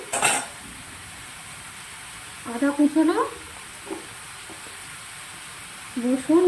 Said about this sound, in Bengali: পটলটা এখানে ভাজা হোক।